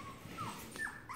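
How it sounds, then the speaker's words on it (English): Five-week-old puppies whimper faintly with a couple of short high-pitched whines over quiet room background. "They're little puppies now, eating and playing and pooping."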